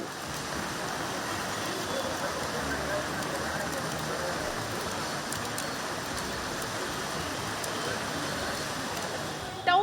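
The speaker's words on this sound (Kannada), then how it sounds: "ನಗರದ ಹಲವೆಡೆ ಮಳೆಯಾಯಿತು" Dense, steady hiss of heavy monsoon rain pouring down over Bengaluru city without a break, broad and even from start to finish.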